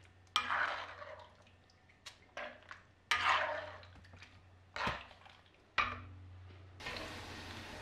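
Pork leaf lard renders over low heat in a wok while a spatula stirs it, with a soft sizzle and scraping, clattering strokes coming in bursts and quieter gaps between them.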